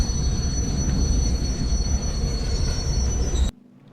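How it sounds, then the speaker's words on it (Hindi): Train in an Indian GTA-style video game braking and slowing, a loud continuous rumble of wheels on rails with a high steady squeal above it, cutting off abruptly near the end. "पहला ब्रेक मारते हैं हम, फिर थोड़ी सी चलने देते हैं ट्रेन, अब फिर से ब्रेक मारते हैं"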